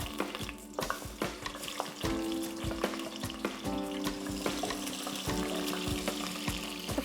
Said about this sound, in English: It is hot and it is ready. So I'm going to add in the onions